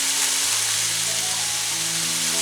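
Chipolata sausages and peppers going into a hot frying pan raise a steady, broad sizzle that holds loud and close throughout, with no talking.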